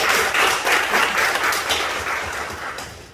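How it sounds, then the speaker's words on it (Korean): A congregation at a Sunday church service applauds in a steady, moderately loud burst of many hands clapping that gradually fades. "함께 위로하고 격려하는 박수 한번 드렸으면 좋겠습니다"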